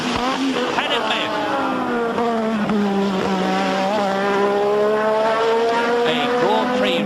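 Turbocharged 1986 Formula One car lapping Brands Hatch in qualifying, its high engine howl rising and dropping repeatedly through gear changes and corners, loud and close, with a commentator talking over it.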